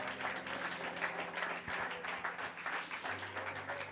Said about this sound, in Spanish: Alguien puede aplaudir el nombre de Jesús